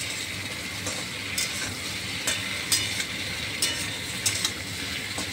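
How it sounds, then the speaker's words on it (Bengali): Malabar spinach stalks stirred and frying in a pan: steady close sizzling with intermittent scraping clicks of a spatula against the pan, no voices. "পুঁই শাকের ডাঁটি দিয়ে একটু ভালো করে নেড়ে চেড়ে নেব"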